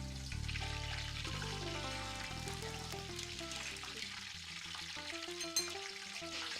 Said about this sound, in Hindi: अब इसमें हम वघार कर रहे हैं।